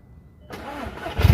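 An Audi S3 8L engine cranks and catches after a brief silence, settling into a steady idle before a louder surge at the end, close by.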